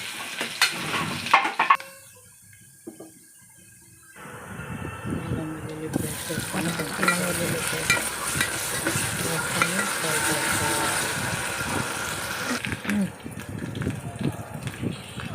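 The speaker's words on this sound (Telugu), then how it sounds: "ఆయిల్ హీట్ అయిన తర్వాత ఆనియన్ వేసుకోవాలి ఆనియన్ ఫ్రై చేసుకోవాలి" Chopped onion dropped into hot oil for a home-style chicken curry sizzles and crackles steadily, with stirring noise, after a few seconds of near quiet at the start.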